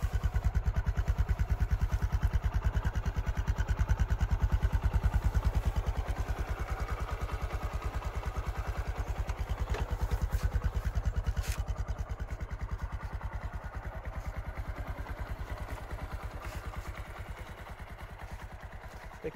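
A Bajaj Discover 100 motorcycle idles nearby with an even, fast low putter that holds steady for the whole stretch and fades slightly toward the end.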